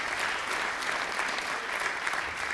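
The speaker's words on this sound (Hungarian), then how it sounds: "ha esetleg meg tudnánk egy picit tolni a brigádot, egy tapsal, annak biztos, hogy örülnének" Steady, dense audience applause for a team fills the room at even volume, a continuous wash of many hands clapping with no voices over it.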